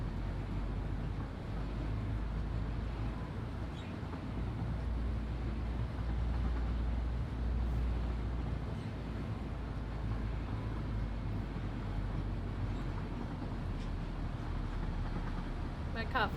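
A train rolling along in the factory-building video game Satisfactory gives a steady, even rumble with a low mechanical drone that holds without a break throughout.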